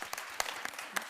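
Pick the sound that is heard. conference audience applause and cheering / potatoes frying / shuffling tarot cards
conference audience applause and cheering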